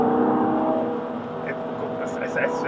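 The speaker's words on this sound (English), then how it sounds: "It's wet and we're going around the bend in the M5." A modified BMW E60 M5 with a 550 bhp V10 is driven on a wet road around a bend, its engine a steady droning hum heard from inside, with faint hiss and ticking over the top.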